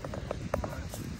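Horse hooves clip-clop at a steady walking rhythm during a morning ride in Portugal, the close, hollow knocks repeating about every quarter second.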